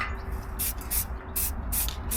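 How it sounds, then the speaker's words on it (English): Short hissing bursts of spray paint on a Rover P4 exhaust back box, four quick sprays in a steady rhythm, close by over low outdoor rumble in the sun. "I'm just going to spray the back box now."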